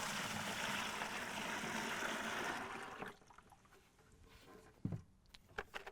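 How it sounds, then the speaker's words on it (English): Turkey brine mixture poured into a 5-gallon food-safe bucket, a loud steady gushing splash for about three seconds that then stops, followed by quieter drips and a few small knocks. "Just pour in the brine mixture in."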